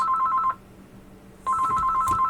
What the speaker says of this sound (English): And I get a phone call.